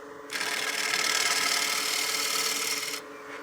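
A 5/8-inch bowl gouge cuts along the bottom edge of the wing of a wooden cake stand spinning on a lathe, a close, steady rasping hiss lasting about three seconds, then stopping abruptly.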